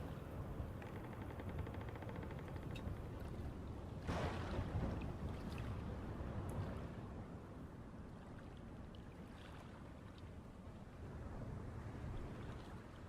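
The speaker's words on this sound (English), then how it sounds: "we'll take a nice slow sail to the treasure island" A sailboat glides slowly across open water in Red Dead Redemption 2, a continuous wash of wind and water with a louder gust-like swell partway through, and no one talking.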